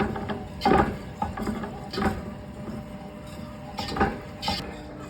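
Gumbo roux being stirred in a pot, close scraping and knocking of a utensil against the pot in irregular strokes, moderately loud with no talk.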